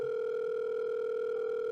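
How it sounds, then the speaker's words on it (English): A steady, continuous telephone dial tone hums without a break, clear and even in level, with no voices over it. "I pulled my phone out of my pocket and dialed my friend's number."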